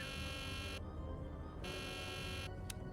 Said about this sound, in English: we're just going to ignore the alarms and just keep playing